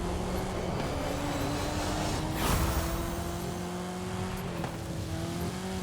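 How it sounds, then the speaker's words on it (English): A Volkswagen Beetle rally car racing in Forza Horizon 5, its engine holding a steady droning note with slight pitch shifts and brief tire and surface noise, heard close and continuous. "So the Beetle's a really good rank 9 car"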